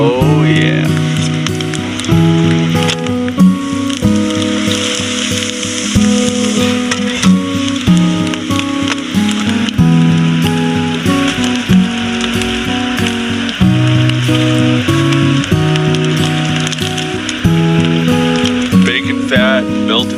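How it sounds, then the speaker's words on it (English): Pork jowl bacon frying outdoors in the Alaska snow gives a continuous crackling sizzle of fat that runs the whole time under a loud tonal music bed with steady, tight spitting pops. "Got the rest of this pork jowl bacon I'm gonna fry up to go with my flatbread."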